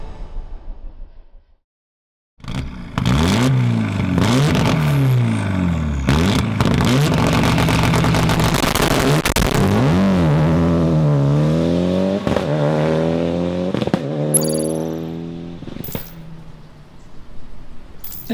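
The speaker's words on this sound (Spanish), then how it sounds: "El coche es un Mitsubishi Galant" A Mitsubishi Galant VR4 race car engine starts and revs hard repeatedly, pitch climbing and dropping through loud rasping surges, then settles into a rough idle with clatter.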